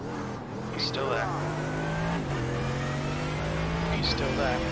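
A Mercedes GT3 race car engine drones and shifts gears at Monza in iRacing, steady high revs with brief upshift dips, under occasional spoken spotter calls.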